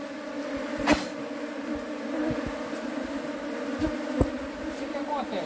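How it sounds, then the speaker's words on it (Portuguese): A honeybee swarm arriving at a shed hums in a steady, fairly faint drone close by, with a few soft knocks and bumps over the continuous buzzing. "Tem muita abelha aqui"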